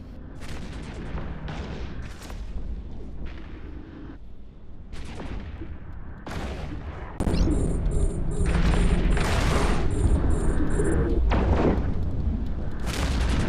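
Enemy ships firing on the player's ship in the EVE Echoes space game produce a steady stream of heavy booming shots and blasts, loud and layered, growing denser and more intense partway through, with sharp high-pitched tones flickering over the barrage.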